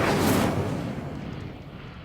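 A fiery spell cast in the Hogwarts Legacy video game, a loud broad whooshing burst at the start that fades into a rumbling roar over two seconds, with no talking.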